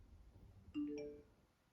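A short electronic doorbell-style iPhone ringtone of two bright tones rings once, fairly quiet, over faint background hiss.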